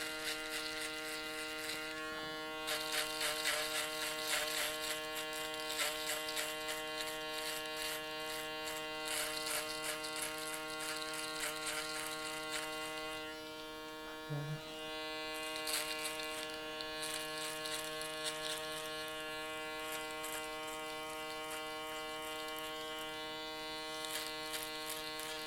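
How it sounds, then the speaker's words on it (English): A single-foil electric shaver trims a beard during a barber's fade and sculpt, giving a continuous close buzz that pulses as it passes over the hair and dips briefly once midway, with no voices. "I'm going to use the single foil shaver because it gives me a lot of visibility and a lot more control."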